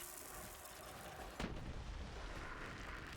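A sharp gunshot in Borderlands 3 cracks through a continuous roar of noise, followed by a dense, rumbling background.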